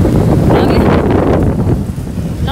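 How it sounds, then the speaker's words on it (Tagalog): Loud, strong wind in the aftermath of Typhoon Carina buffets the microphone in a constant roaring rush, with low rumbling gusts throughout and no other clear sounds. "Pero ang lakas pa rin ng hangin"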